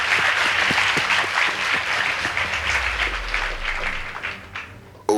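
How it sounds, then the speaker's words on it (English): An audience at a school debate competition claps for the Loreto Convent Valley Road team, lively applause with distinct nearby hand claps that trails off before a sharp sound at the very end. "Please give them a round of applause."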